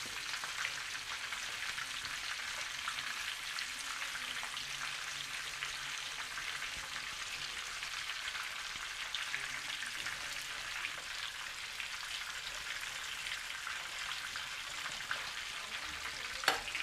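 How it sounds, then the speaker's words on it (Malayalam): Chicken pieces deep frying in oil for fried chicken, a steady, even bubbling hiss that holds for the whole stretch, moderately faint and close, with a single knock near the end as the pieces are turned, and no speech. "നന്നായിട്ട് ഫ്രൈ ആവണം ഇതൊക്കെ നമുക്ക് ഇതുപോലെ മറിച്ച് കൊടുക്കാം."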